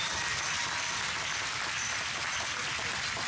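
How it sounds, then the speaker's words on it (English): Audience applause at an introduction segment of a dance event, a dense, steady wash of many hands clapping that holds evenly at moderate level throughout, with no voices breaking through. "Please give them a big round of applause."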